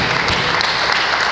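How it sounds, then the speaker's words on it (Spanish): Congregation clapping during a church worship service, a dense, steady wash of applause filling the whole stretch without a break. "Démosle un aplauso al Señor."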